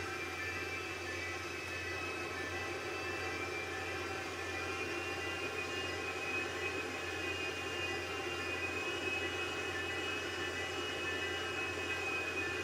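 A steady, loud jet engine drone from a video game airplane holds without a break, broadband and constant like an airplane cruising, with no voices.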